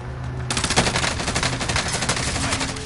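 Rapid bursts of video game gunfire crackle loudly and continuously after a brief quiet opening, layered with game background noise.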